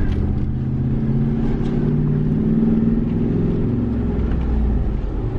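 A truck driving with a worn, loud exhaust, its engine rumbling as a heavy, steady low drone heard from inside the cab.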